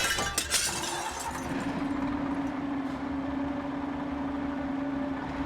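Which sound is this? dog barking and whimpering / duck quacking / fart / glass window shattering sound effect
glass window shattering sound effect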